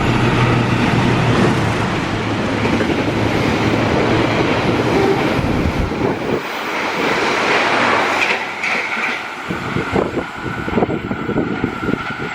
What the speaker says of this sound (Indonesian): menunggu kereta api Walahar memasuki stasiun Cikarang